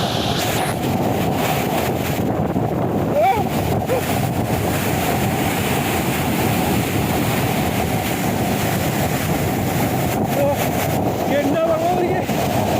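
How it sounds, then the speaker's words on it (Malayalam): Strong wind roars steadily and loudly across an open outdoor spot by a waterfall, a continuous buffeting rush with wind hitting the microphone throughout and no speech over it. "എന്നാ കാറ്റാ"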